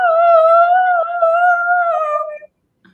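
A person imitates a dog howling in a sustained, wavering tone lasting about two and a half seconds, sung by a game-show contestant trying to sound like a boxer dog.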